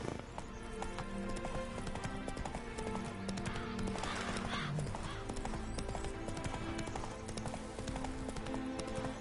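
Geralt's horse Roach gallops in Witcher 3: Wild Hunt, a steady rapid drumming of hooves close by, with a brief snort or whinny midway and game ambience underneath.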